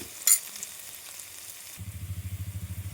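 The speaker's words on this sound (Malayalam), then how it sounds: "പച്ചമുളക് കറിവേപ്പില വരട്ടിയെടുക്കാം" Green chillies and curry leaves sautéing in a pan for a dried prawn dish: a quiet hiss with a brief clatter, then a rhythmic scraping stir that pulses steadily to the end.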